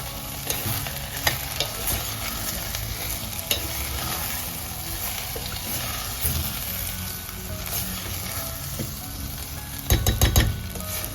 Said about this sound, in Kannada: ಈಗ ಇದನ್ನು ಚೆನ್ನಾಗಿ ಫ್ರೈ ಮಾಡ್ಕೊಳ್ಬೇಕು.